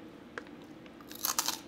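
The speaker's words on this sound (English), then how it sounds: "But I love the crunchiness with the chocolate mix." Crisp crunches from biting into a dark chocolate keto snack, a faint bite followed by a louder cluster of crackly chews, close and quiet with no talking.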